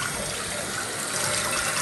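A newly installed bathroom vanity faucet runs hard and splashes into the sink, making a bright, continuous hiss of water close by with no voices.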